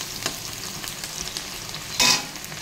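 Cut potatoes go into a pan of onion and bay leaf already frying in oil, giving a steady close sizzle with light stirring scrapes and a sharp burst of louder hissing near the end.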